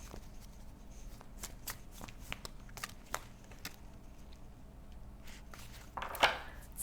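Tarot cards are shuffled quietly by hand, giving soft, uneven riffling taps and slides in the foreground, with a sharper flutter of cards near the end.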